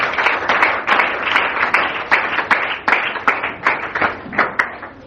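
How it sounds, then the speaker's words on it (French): A church congregation claps together in a steady rhythmic beat, loud and close, with about a dozen sharp hand-clap bursts and no talking over them. "Acclame Jésus"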